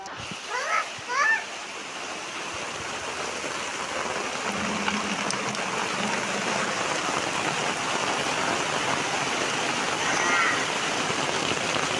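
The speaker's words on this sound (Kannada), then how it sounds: "ಮಳೆ ಬಂದಿರೋದು ಅಷ್ಟು ಜೋರು ಬಂದಿದೆ ಉಂಟು" Heavy rain pours continuously in a dense, steady roar, with a few brief voices near the start.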